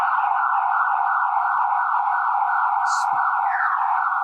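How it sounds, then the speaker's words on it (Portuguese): A loud electronic alarm blares steadily at close range in Atibaia, Brazil, one unbroken high tone that holds without pause, with a few faint knocks beneath it and no talk. "Alguém passou no alarme."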